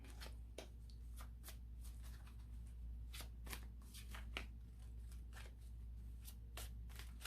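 Tarot cards shuffled and handled by hand in quiet surroundings, a rapid run of soft riffling and flicking bursts over a faint low hum.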